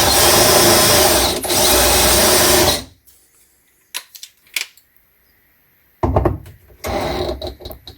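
A power drill spins a Speed Out screw extractor bit counterclockwise in a loud, whirring burst for about three seconds, then falls quiet apart from a few faint clicks before spinning up again in short runs.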